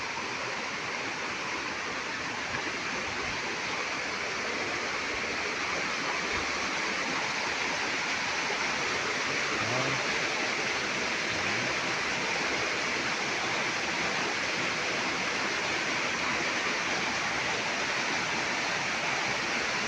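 A tall waterfall roars in a steady, dense, unbroken rush of falling water, loud and close, with no voices.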